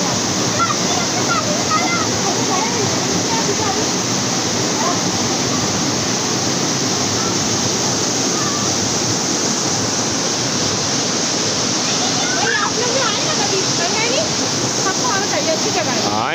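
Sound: jungle waterfall

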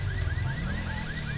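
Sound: alarm sounding in video game LSPD First Response (GTA V)

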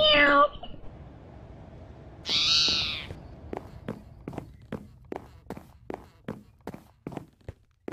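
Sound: cat meowing in video game Minecraft

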